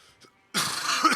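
A single harsh, close cough from a man, a sudden loud burst after a brief quiet moment.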